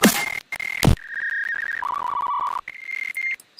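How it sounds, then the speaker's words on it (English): Dial-up modem tone preset from the Phase Plant synth, opening with a noisy burst and then moving through steady, sustained electronic whistling tones that step between pitches, with brief gaps between them, clear and alone. "The Phase Plant synth has a preset that is literally a dial-up tone."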